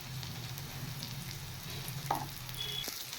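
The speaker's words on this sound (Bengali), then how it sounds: "এবার দেবো কুচিয়ে রাখা কাঁচা লঙ্কা। এটা একটু ভালো করে ফ্রাই করে নেব।" Chopped green chillies fry in a pan, a faint, steady sizzle with a brief clink partway through.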